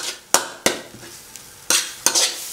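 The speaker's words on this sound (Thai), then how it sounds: "ค่อยๆผัดจนมันหอม" Curry paste is stir-fried for a spicy Thai catfish curry, with a quiet sizzle under five sharp spatula knocks against the pan at uneven intervals, close by and free of speech.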